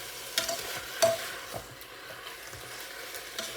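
Chicken and mushroom pie filling is stirred in a dry pan as it browns without oil, giving soft scraping and stirring sounds with a faint sizzle and a few light knocks throughout.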